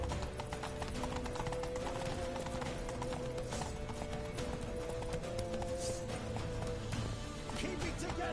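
A horse gallops in the video game The Witcher 3: rapid, steady hoofbeats drum continuously under a dense game soundscape of music and ambient effects, fairly close and sustained throughout.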